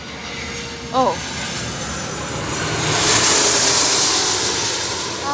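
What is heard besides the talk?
airplane at LAX airport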